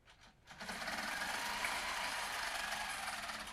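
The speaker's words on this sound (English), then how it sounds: "So I'm going to stitch out the first one." A quilting sewing machine with a ruler and glide foot stitches out a shallow arc in a grid-based quilting design, a steady continuous mechanical whir that starts after a brief quiet moment and runs on evenly and close.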